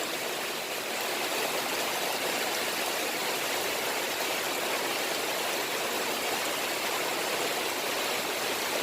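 Heavy rain pours down steadily, a dense, loud, unbroken hiss of falling water lasting the whole stretch with no voices.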